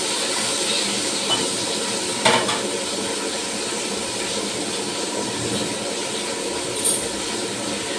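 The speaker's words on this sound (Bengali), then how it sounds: "মাছটা এখন আমার ভাজা চলছে।" Fish fries in a hot pan in a home kitchen, a loud, steady oil hiss and crackle that holds for several seconds with a couple of brief sharper pops.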